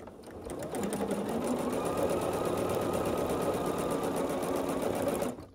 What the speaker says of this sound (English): you're going to sew across the diagonal here